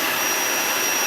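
A Dyson upright vacuum cleaner runs steadily at close range, its motor drawing suction through the hose with a loud, even roar and a thin constant whine, with no talk over it.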